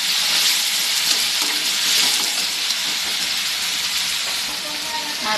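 Turmeric stirred into tomato and onion frying in a pan, with a steady bright sizzle and faint scraping of the spoon running continuously, close and fairly loud, with no talk.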